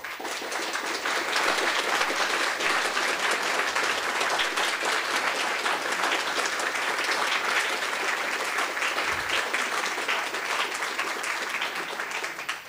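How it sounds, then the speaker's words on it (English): Lecture audience in a university hall giving sustained applause, a dense, even wash of many hands clapping that holds steady and loud for over twelve seconds before tapering slightly at the end. "she also deserves a round of applause"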